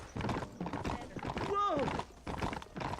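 Horse hooves clip-clopping in the video game Red Dead Redemption, a steady close trot with a brief whinny in the middle, heard alongside someone talking.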